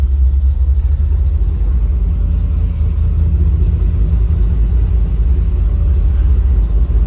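A green pickup truck with a cammed big block engine runs steadily nearby, its deep, loud low rumble continuous and even throughout, with no talk over it.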